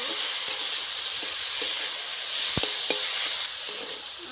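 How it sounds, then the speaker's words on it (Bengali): Banana flower (mocha) frying in a pan of oil for a Bengali mochar ghonto, a steady close hiss and sizzle with a few soft clicks of a spatula. "এটা ভালো করে ভেজে নেব"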